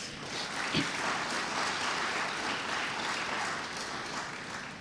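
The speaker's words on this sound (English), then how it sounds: "He needs a round of applause for that." Steady round of applause from a conference audience for the Minister of Health at a health research conference, an even wash of clapping from many hands with no talk over it.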